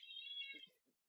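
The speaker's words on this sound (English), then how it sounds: "Like you're just gonna hear sometimes purring or meowing" A single cat gives one short, fairly faint meow that rises into a brief chirp and trails off, heard alone in a quiet room.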